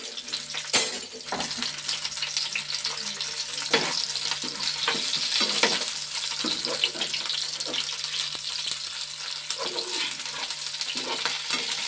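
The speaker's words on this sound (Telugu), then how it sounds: "కొద్దిగా కాకరకాయలు వేపుతున్నాను" Bitter gourd pieces frying in hot oil give a steady, close sizzle that runs throughout, with faint scrapes and clinks from stirring and no talking.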